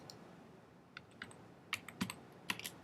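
Computer keyboard keys being typed while entering coordinates in a CAD program, a handful of sparse, quiet clicks spread unevenly, with a quick cluster of taps near the end.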